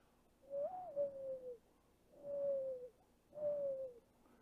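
A dove coos outdoors in three drawn-out, slightly falling calls, spaced evenly about a second apart, clear and fairly close with no talking.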